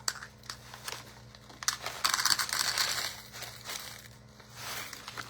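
Sharp clear crushed glass is poured into a cup, making a close, gritty crunching and tinkling rush that swells in the middle and trickles on in bursts.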